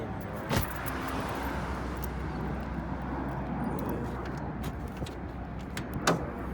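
A newly swapped hood latch on a 2004–2008 Nissan Maxima, Altima or 350Z is tested: a sharp metallic latch clunk near the start and another near the end, with a steady broadband hiss of engine or background noise between them.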